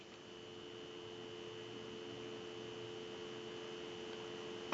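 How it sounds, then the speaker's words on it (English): Steady dial tone on a British desk telephone line, a continuous even hum held at moderate level throughout with no voices. "So we'll give you some dial tone."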